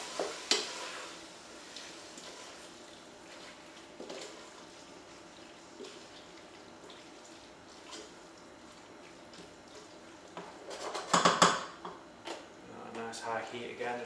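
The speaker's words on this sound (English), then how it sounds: "Just give that a mix round first" Bean and halloumi stew with chopped tomatoes and stock being stirred in a pan, soft bubbling and low scraping, then a brief louder clatter of spoon against pan near the end.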